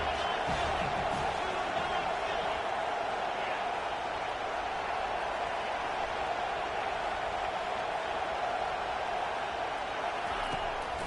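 A dense, continuous stadium crowd roar from an NCAA football video game fills the whole stretch at an even level, with faint play-by-play commentary under the din.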